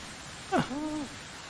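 In the Medieval Dynasty video game, an owl gives a single hoot, sharp at the start and then trailing off, fairly close and clear over a faint, steady background.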